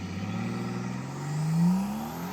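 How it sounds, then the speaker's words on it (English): Brabus G800 with an 800 hp V12, brake-boosted and launched for a 0-96 km/h run, heard as a fairly quiet, continuous engine drone whose pitch climbs steadily as the vehicle accelerates. "I'm going to brake boost it and launch it."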